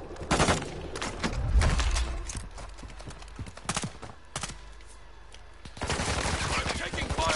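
Bursts of gunfire from a military shooter video game ring out in sharp clusters, some near and loud, others quicker and more rattling, mixed with game voices and radio chatter.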